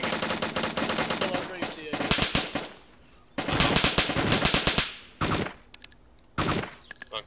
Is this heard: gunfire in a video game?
yes